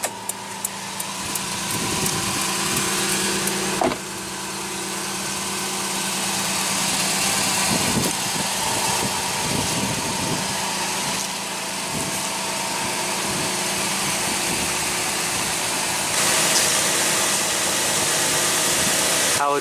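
A 2015 Toyota Tacoma's 4.0L V6 idles steadily in the open engine bay, a close, even mechanical hum and whir with faint clicks, holding level throughout with no talking.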